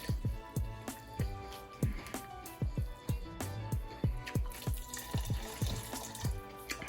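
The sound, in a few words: pouring bouillon and hot water mixture into gumbo pot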